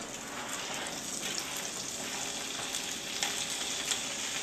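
Olives added to hot oil in a pan for pasta give a steady, close sizzle with faint crackles and stirring sounds, quiet overall and without talk.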